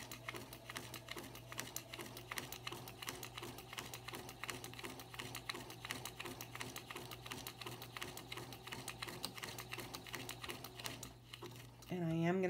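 A sewing machine stitches through paper in a fast, steady mechanical patter with an even rhythm, a low hum underneath, fairly quiet and close, ending with a brief different sound at the very end.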